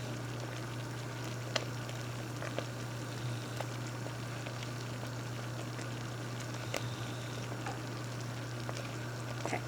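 Cranberry jam boiling in a pot on a kitchen stove, a steady low bubbling and soft popping with a constant hum underneath, quiet and even throughout with no talking.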